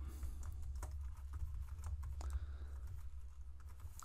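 Soft, quiet computer keyboard typing sounds in a rapid run of light key taps over a low background hum while code is entered.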